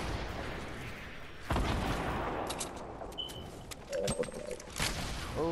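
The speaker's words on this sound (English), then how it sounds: "oh, they shooting" Gunfire in the video game Fortnite, with bursts of shots and sharp impacts popping irregularly through a dense, noisy game mix, some louder hits standing out near the middle and end.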